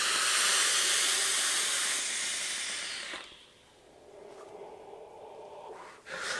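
A long, loud breathy hiss of a big vape exhale from an RDA fitted with a tricore coil fades after about three seconds, then softer breathy puffs follow, with no speech.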